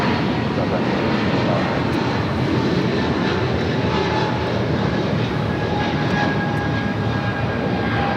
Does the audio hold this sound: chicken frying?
no